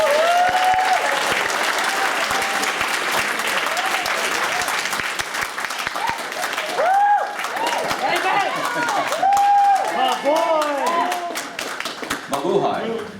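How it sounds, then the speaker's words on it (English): A crowd at a graduation party applauds an honors mechanical engineering graduate with sustained, dense clapping, mixed with cheering and talking voices that grow more prominent toward the end. "Big round of applause."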